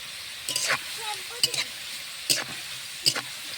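Carrots fry in a pan for fried rice, with a soft background sizzle and a few sharp, separate scrapes and clinks as a spatula turns them, and faint voices in the room.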